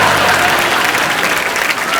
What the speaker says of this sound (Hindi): सीटियों और तालियों से सजी धमाकेदार एंट्री है वो